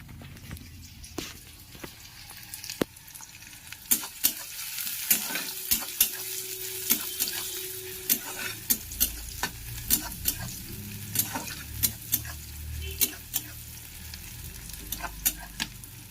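Onions fry in oil in a pan with a steady sizzle. A utensil scrapes and taps against the pan in frequent sharp clicks as the onions are stirred, close up and moderately loud, with no talking.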